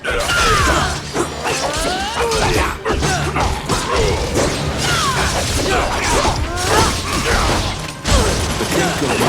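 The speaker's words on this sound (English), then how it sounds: "The clink of metal hitting the ground can be heard." Metal clinks and clatters as it drops to the ground in the Dragon's Crown dungeon, heard among loud, dense game effects with repeated crashing, shattering impacts and mechanical rattling.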